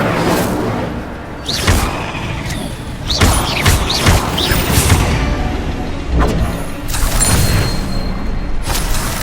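An Incendio fire spell cast in the video game Hogwarts Legacy, several loud booming bursts with fiery whooshes and crackling, close and forceful, coming in repeated waves.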